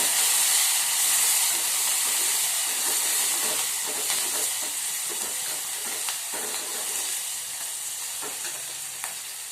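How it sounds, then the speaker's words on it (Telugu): Onions dropped into a hot pan crackle and sizzle with a steady, bright frying hiss, dotted with small pops and spatters that slowly ease off over several seconds. "ఉల్లిగడ్డ వేస్తున్నాను."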